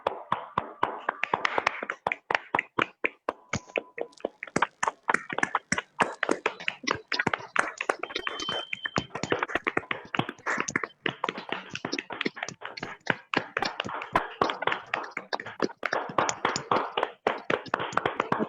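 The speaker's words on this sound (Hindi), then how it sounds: "एक जोरदार तालियों के साथ अनिल सर आपका स्वागत करते हैं।" A crowd at a lockdown festival event breaks into loud, sustained applause to welcome a speaker to the stage, with dense, steady clapping that continues throughout and no voices heard.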